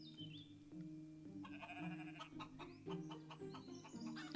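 Game chickens and sheep clucking and bleating in the life-simulation game Equilinox, a busy overlapping cluster of short animal calls over a steady low musical drone, with no talking.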